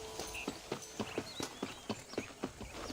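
Rhythmic clip-clop of a horse's hooves walking steadily in a video game, each strike crisp and fairly close, with faint background ambience and no talk.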